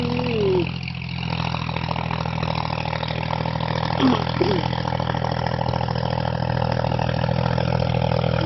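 A John Deere 5045D tractor pulling a 3-disc 26-inch plough through sandy soil drones at a steady mid-pitched engine hum, moderately close and continuous, with faint background noise and no talk.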